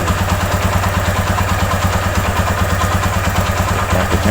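Motorcycle engine idling steadily with a fuse pulled out of an MP Primus tube-fuse holder, a close, even putter with light mechanical clatter running throughout.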